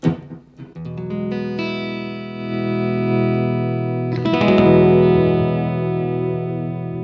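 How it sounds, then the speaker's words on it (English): A 1997 Parker Fly Deluxe electric guitar played through its piezo bridge pickup into a 1968 Super Reverb amp set fairly clean. A few picked notes give way to ringing, sustained strummed chords that bloom louder midway and decay with reverb. "So let's listen to the acoustic sound of this guitar."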